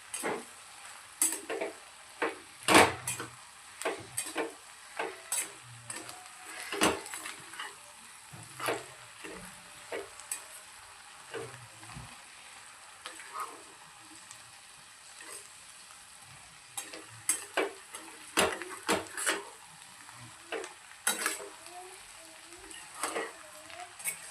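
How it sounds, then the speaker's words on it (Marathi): A spoon stirs a garlic pickle mixture in a hot pan, giving repeated scraping strokes and clinks over a soft sizzle, some strokes loud and close, with quiet gaps between bursts. "हे पण आपल्याला छान पद्धतीने असे मिक्स करून घ्यायचे आहे"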